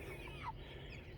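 Chickens inside a chicken tractor give a faint, brief cluck over a low steady background hum, with no voices.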